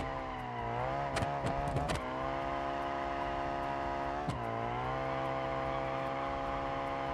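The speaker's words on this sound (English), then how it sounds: "it just wheel spins" An Ibishu 200BX show car in BeamNG.drive spins its wheels while the engine holds a steady drone. Sharp rev surges hit early on and again around the middle before it settles back to an even hum.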